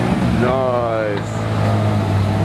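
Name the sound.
car engine running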